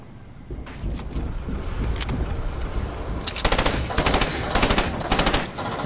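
Rapid automatic gunfire from a Fortnite weapon, several bursts of sharp cracks growing denser toward the end, loud and close with no voices over them.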